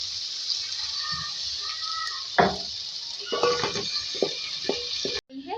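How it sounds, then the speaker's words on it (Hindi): Masala being stirred and roasted with a splash of water in a pot for Bengali chicken aloo gosht, with scraping and clinking of a spoon against the metal over a steady hiss of cooking, a few knocks standing out toward the end. "थोड़ा सा पानी डालेंगे और इसकी भुनाई करेंगे।"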